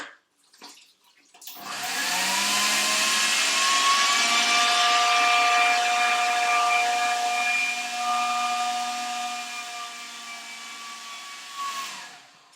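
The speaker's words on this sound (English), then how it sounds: "the flour, the sugar and the margarine into a food processor." A steady, loud motorized whir with a high whine from a food processor mixing flour, sugar and margarine runs for about ten seconds, starting abruptly and cutting off at the end, no voices.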